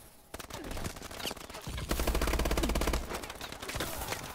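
Rapid automatic gunfire from the video game Call of Duty: Advanced Warfare, sustained bursts of close, loud shots with short pauses between volleys.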